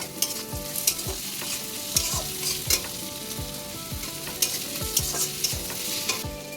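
Green chillies sputtering and crackling in hot fish oil while being stirred, a bright continuous sizzle with regular scraping strokes of the spatula against the pan, fairly close and with no voices.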